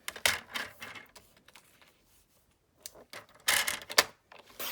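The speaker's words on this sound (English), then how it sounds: "I'm going to cut it, and then we'll cut each panel by 1 1/4." A paper cutter slices cardstock panels for a stamping craft project, making quick, light clicking and scraping strokes in short bursts with quiet gaps between them, close by and without talk.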